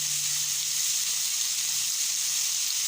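Soy sauce hits chicken pieces, first boiled briefly and then frying in a pan, giving a steady, close, loud hissing sizzle that holds evenly through the whole stretch without any talk.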